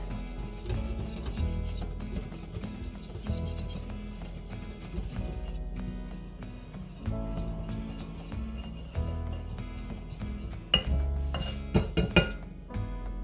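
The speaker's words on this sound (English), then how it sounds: "I'm just going to take my whisk and whisk all of those together real good" A whisk clinks rapidly against a mixing bowl as the dry ingredients for a Christmas spice cake are combined. The metallic taps are steady and close, and they grow louder and sharper near the end.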